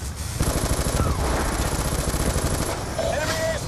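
Dense, continuous gunfire and explosions in the Black Ops II campaign mission FOB Spectre, loud and close, with a steady rattle of automatic fire and a brief voice near the end.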